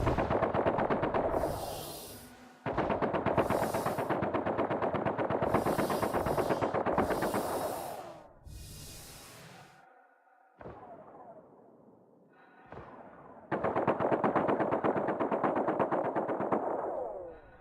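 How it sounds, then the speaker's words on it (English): Loud bursts of rapid automatic gunfire in the video game Star Citizen come in several long volleys, with brief pauses and a few quieter shots between them. "I see gunfire."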